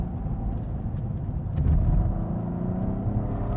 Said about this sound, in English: You get nice throttle response.